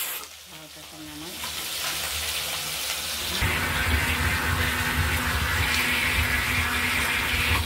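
A fresh rohu fish head frying in a pan, a loud, steady sizzle that grows noticeably fuller and stronger partway through and keeps crackling close by to the end.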